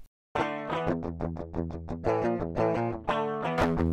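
Electric guitar through the shredding distortion of the Speakerphone 3 plug-in chugs through a run of sharp, rhythmic chords and notes, loud and saturated with a heavy effects sheen, played alone after a brief silence.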